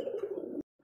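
Fancy pigeons coo at a pigeon market, one soft, low, rolling call that stops abruptly, then a faint restart after a short silence.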